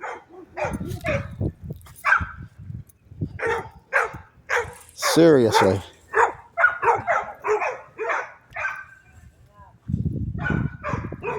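Neighborhood dogs in Ormond Beach, Florida bark repeatedly in sharp bursts, some yipping and higher-pitched, with a person talking in between and over them.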